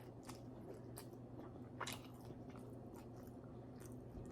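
Crunchy pork belly skin is chewed close to the microphone, giving repeated crisp bites and crunches over a low steady background hum, with no talking.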